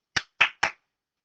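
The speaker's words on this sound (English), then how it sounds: "it would take about 1 second to clap 3 times" Hands clap three times in quick, even succession, sharp and close against silence, all within about one second.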